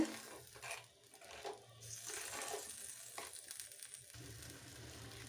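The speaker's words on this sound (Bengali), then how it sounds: "কাসুরি মেথিটা দিয়ে ভালো করে কষিয়ে নেব" Kasuri methi fries in a pan while being stirred, giving a soft, low-level sizzle with faint scraping that stays fairly quiet and even throughout.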